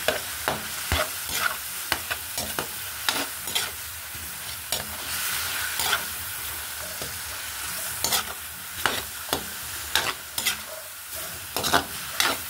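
Chicken pieces salted and stirred in a hot pan: a loud, bright, close frying sizzle with frequent hard clacks and scrapes of the spatula at an irregular rhythm.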